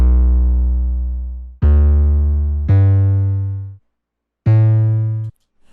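A short melody plays back from music production software as four sustained synth notes with strong harmonics, the first long and low, then three more at a steady pace with a gap before the last; loud and clean, no voices.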